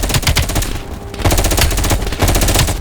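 Gunfire in a Call of Duty Black Ops Cold War firefight: rapid automatic bursts, loud and close, with a brief lull in the middle before the firing resumes.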